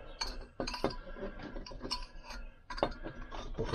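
A Lambretta engine's cylinder barrel is lowered into place during a rebuild, making a series of sharp metallic clinks and taps in irregular bursts, close and fairly quiet, with no talking.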